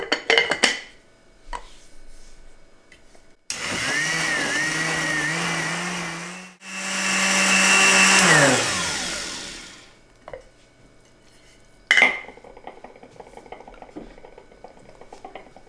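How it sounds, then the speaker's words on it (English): A blender blitzes garlic and salt for enchilada sauce in two loud whirring bursts, its motor pitch rising and then winding down, framed by quiet kitchen clatter before and after. "Get this on the blender. Add 2 cloves of garlic, a nice pinch of salt, and we're going to go ahead and blitz that."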